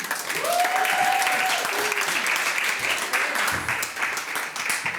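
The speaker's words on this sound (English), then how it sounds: "And do give them another round of applause, ladies and gentlemen, as Tinky makes her way to the stage." An audience gives sustained, dense applause at a Hall of Fame induction ceremony, steady and full throughout, with a faint voice or tone briefly audible over it near the start.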